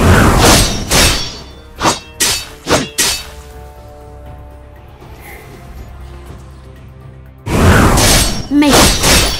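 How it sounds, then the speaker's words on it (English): A turret is destroyed in the mobile game Legend of Ace: a string of sharp shattering thuds and heavy impacts, then a quieter stretch with a game announcer's voice and music, then another loud burst of hits. "Your turret has been destroyed."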